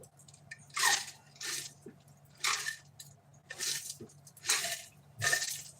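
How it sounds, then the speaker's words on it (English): Repeated gulps of water swallowed at a steady pace, each a soft wet burst with brief pauses between, close and fairly quiet over a faint background hum. "Gonna get another drink of water."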